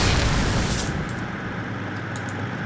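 An electric fire surround spell going off in the video game Magicka, a loud, dense crackling blast that roars at full strength for about a second, then settles into a sustained hissing rumble.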